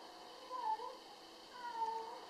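A cat near a home-made telescope meows twice, two soft drawn-out cries about a second apart over a faint hum in an otherwise quiet room.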